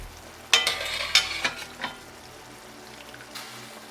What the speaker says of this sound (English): Now that the pasta is al dente, put it in the sauce.